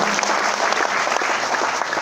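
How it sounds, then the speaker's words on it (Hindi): Seminar audience applauding at a direct-selling business meeting in Bhilwara, Rajasthan: loud, continuous, many-handed clapping that fills the room evenly from start to finish, with no talk over it. "ताली बजा लीजिए आपके लिए"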